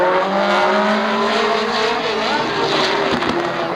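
Race cars lapping at Raceway Park in Shakopee, Minnesota, in 1987, several engines roaring loudly together with shifting pitch as the pack passes close by, continuous and dominant with no voices.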